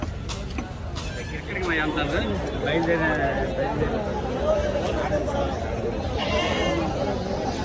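Goats and sheep bleat repeatedly at a busy village livestock market in Alladhipalem, over crowd chatter and people talking nearby.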